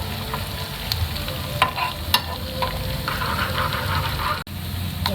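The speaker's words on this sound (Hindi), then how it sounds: "मुझे प्याज और ज़ीरे वाले अच्छे लगते हैं तो इसलिए मैं दोनों का तड़का लगा रही हूँ।" Onion and cumin tempering sizzles and crackles steadily in hot oil in a pan, a close, continuous frying hiss with occasional stirring clicks and scrapes and a brief pop.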